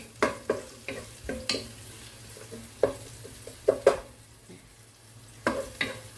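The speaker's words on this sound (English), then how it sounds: "Onion. Cook it." Onion frying in oil in a pan for pancit with bamboo shoot: a soft, steady sizzle under repeated sharp spatula scrapes and taps against the pan, coming in irregular bursts.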